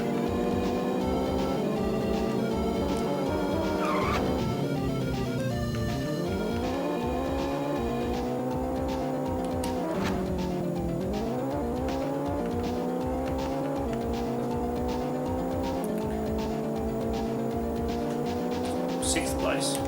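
Car braking and skidding in the Checkered Flag racing game, a loud droning engine with repeated falling tire squeals as the car slows, under someone talking.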